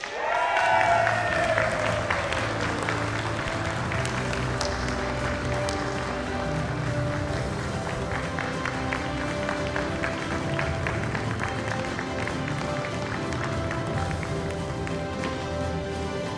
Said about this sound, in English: the reason why Mr. Mohan Deshpande received such a thunderous applause